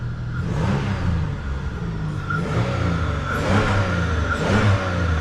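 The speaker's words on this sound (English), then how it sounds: "One thing about the 3800 motors, these are some strong motors, man." Car with a 3800 engine revving repeatedly in short throttle blips, a mid-pitched engine roar rising and falling several times, close and loud with no talking.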